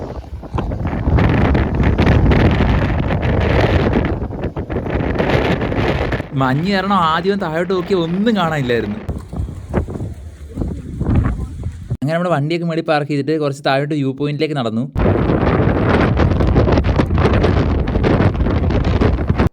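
Strong wind buffets the microphone at the misty Parunthumpara hilltop viewpoint in rain and fog, a loud, continuous roar that runs throughout. Someone speaks over it, with two shorter stretches where tonal voices or music cut in.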